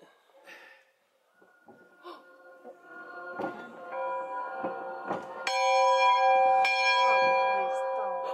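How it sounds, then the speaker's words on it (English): A large old bell at a mountain heritage museum is struck several times, its clangs building to a loud, long-ringing tone with sustained overtones, while people talk faintly between strikes. "She said to ring the bell."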